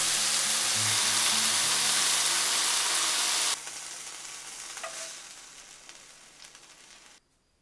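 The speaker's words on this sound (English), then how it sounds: "When the oil is hot, put the wrapped shrimp." Beef-wrapped shrimp sizzle loudly in hot oil, a dense crackling hiss that drops sharply partway through, then fades and cuts off.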